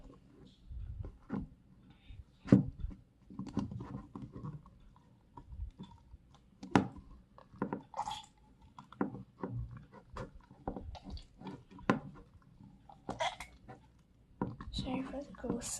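Slime squished and pressed by hand close to the microphone, giving irregular wet squelches and sharp sticky clicks with quiet gaps between them.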